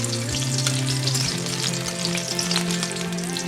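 Garlic cloves, cumin and green chillies frying in hot oil in a kadai, a steady crackling sizzle with scattered pops, continuous and close, with no voices.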